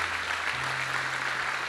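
A church congregation claps hands in praise during a worship service, a dense, steady wash of applause filling the room for a moment.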